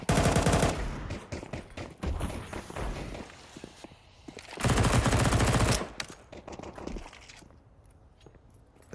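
AK rifle fire in Counter-Strike 2 during a major tournament match, with dense bursts of automatic shots in several loud volleys and gaps between them, and faint footstep thuds under the bursts.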